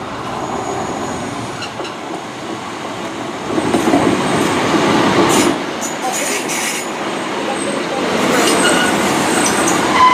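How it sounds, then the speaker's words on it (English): Great Western Railway Class 153 and 150 diesel units roll into a station on the Cornish main line, with wheel rumble, squeals and rising engine noise building and fading over several seconds, and faint voices in the background. "arriving now is the 1611 Great Western Railway service to Liscard from Newton Abbot"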